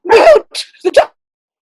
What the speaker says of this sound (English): No, that's my dogs. They're barking.